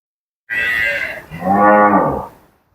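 A cow moos twice nearby, a higher drawn-out call followed by a deeper, louder bellow, then silence.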